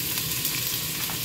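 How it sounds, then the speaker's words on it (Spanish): Garlic, onion and leek sauté in olive oil in a pot, giving a steady, dense sizzle with faint stirring scrapes throughout, close and fairly loud with no voices. "hacemos un sofrito con los ajos. Cuando estén un poco dorados, añadimos la cebolla y el puerro"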